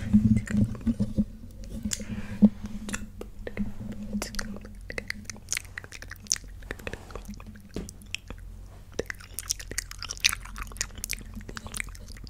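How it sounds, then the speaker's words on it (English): Gum chewed close to the microphone with wet, sticky smacks and clicks in an irregular rhythm, mixed with soft, unintelligible whispering. "and sounds and chewing gum and all that good stuff"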